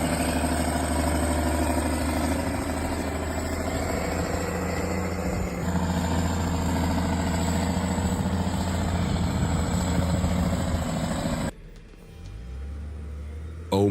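A forestry tractor or excavator with a 210-horsepower engine runs steadily and loudly while hauling logs, a continuous low engine drone that drops off abruptly near the end before resuming.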